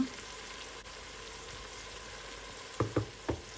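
Whole spices (black pepper, cloves, cardamom, cinnamon and bay leaf) fry with garlic and ginger paste in a quiet, even sizzle, then a few sharp knocks of a spoon stirring the pan near the end.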